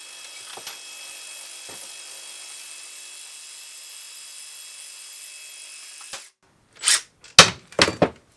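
A Makita ratchet whirs steadily at close range for about six seconds, then stops, followed by a few short bursts from a DIY right-angle driver converted from air to electric.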